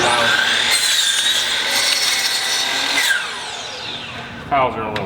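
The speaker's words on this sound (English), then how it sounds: "You draw the line, hold the miter saw," A miter saw cutting Swisstrax Ribtrax garage floor tiles gives a loud, harsh, whining cut lasting about three seconds, then winds down, followed by a brief knock near the end.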